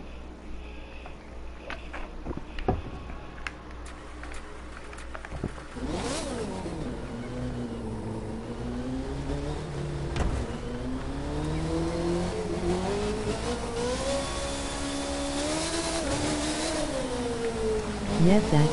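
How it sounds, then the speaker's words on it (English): An Indy car racing in the video game The Crew 2, its engine holding a loud, steady high whine that climbs and falls as the car accelerates and shifts, heard continuously throughout. "Take the old Indy car for a little spinneroo."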